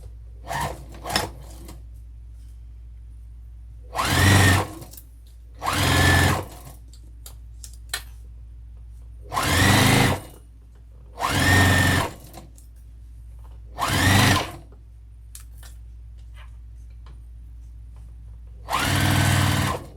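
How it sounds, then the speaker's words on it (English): A sewing machine stitches a vinyl zipper overlay onto a tote bag in seven or eight short, loud bursts of whirring stitching, separated by quiet pauses over a low steady hum. "now we're gonna sew this on"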